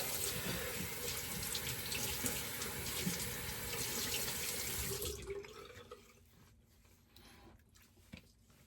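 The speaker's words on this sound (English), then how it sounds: "Let's do a quick rinse." Running tap water pours steadily into a sink for a quick rinse after a safety-razor shave, a loud continuous wash that cuts off about halfway, leaving faint drips and small handling sounds.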